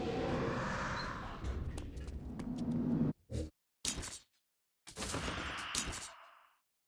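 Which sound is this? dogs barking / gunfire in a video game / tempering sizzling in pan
gunfire in a video game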